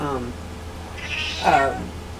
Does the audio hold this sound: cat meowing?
yes